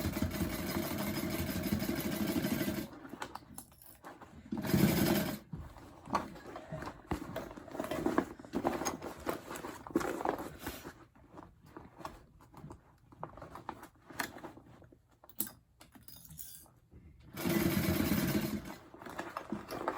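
A domestic sewing machine stitches through vinyl bag lining in stop-start bursts, a steady mid-pitched whir broken by short pauses, with louder runs at the start and end.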